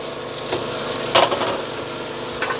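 Onions and cabbage fry in browned butter over medium heat, giving a steady close sizzle with a few brief louder crackles and no talking.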